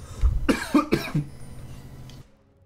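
Several harsh coughs burst out close to the microphone, three or four in a quick cluster, followed by low background noise.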